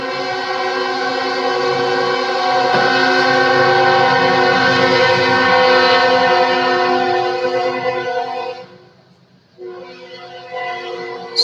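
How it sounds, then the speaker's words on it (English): A train passing close by, its horn blaring in a long sustained multi-tone chord that dips briefly, then sounds again over a steady rumble, loud and dominant. "Here comes a train."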